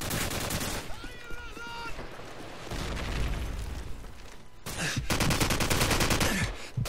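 Video game sniper and rifle fire booms through a busy battle mix of sustained shooting and blasts, ending with a sharp crack near the end, while a player talks over the action.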